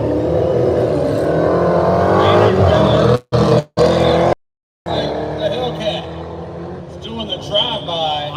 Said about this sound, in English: Hellcat driving by into round number 3